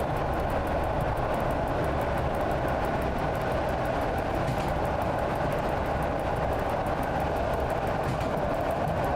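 A Pendolino passenger train rushing past in Simrail, a loud continuous rumble of wheels and wind with rhythmic rail clatter, close by and steady, no talk.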